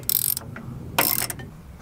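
A hand ratchet clicks rapidly in two short bursts as it loosens the brake line bracket bolts on an Alfa Romeo Stelvio, loud and close with no talking.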